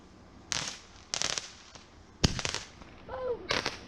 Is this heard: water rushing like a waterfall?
no